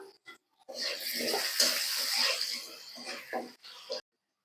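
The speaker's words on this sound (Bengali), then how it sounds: "এখন কষিয়ে নেওয়ার জন্য পানি দিয়ে দিচ্ছি।" Water poured into a pan of potatoes frying with salt and turmeric, making a loud, steady hissing sizzle and splashing that lasts about three seconds before cutting off abruptly.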